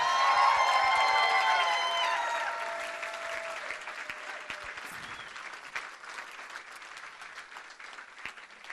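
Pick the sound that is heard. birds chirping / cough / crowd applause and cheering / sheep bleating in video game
crowd applause and cheering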